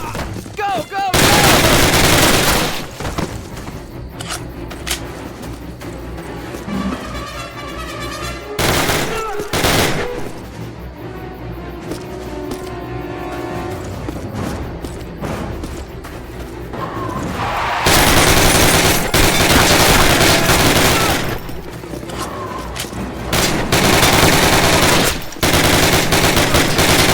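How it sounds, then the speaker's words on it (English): Machine gun fire in Call of Duty's American campaign: sustained automatic bursts with dense rattling volleys, loud and close, broken by brief pauses and heavier barrages near the end, under faint shouted game voices. "Covering fire!"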